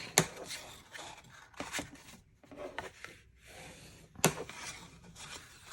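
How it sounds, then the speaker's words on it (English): Paper folds on a free-standing pop-up card are burnished by hand, giving soft, close rubbing and scraping strokes in short bursts with brief pauses between them. "So we'll just burnish each of these, get a nice fold."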